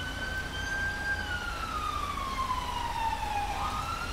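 A single ambulance siren wails in a slow, descending sweep, then begins to rise again, heard at moderate distance over a low rumble, in GTA 5.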